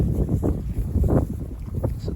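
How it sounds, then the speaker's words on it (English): Strong wind gusting across an open winter pasture paddock by a pond, roaring and buffeting the microphone in steady low rumbling surges, with no voices. "pardon the wind."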